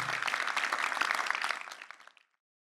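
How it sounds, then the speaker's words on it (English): An audience at a whisky forum panel session claps for a couple of seconds, a dense patter that thins and fades out, with no talk over it. "a big round of applause for the panel"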